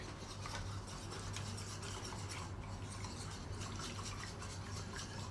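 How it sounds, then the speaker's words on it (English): A whisk works xanthan gum into a sauce for a beef and broccoli stir-fry, making a quiet, continuous scraping and swishing under a low steady hum, with no one talking. "Whisk it all in."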